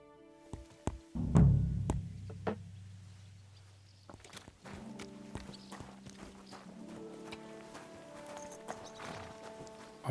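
Horse hooves clip-clop in Kingdom Come: Deliverance II, a few sharp knocking steps close by over a low rumble, followed by scattered lighter taps and soft tonal ambience.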